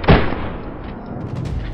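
A single close, booming shotgun blast from Beyond the Wire hits hard at the start, then decays into a rumbling tail and faint background noise.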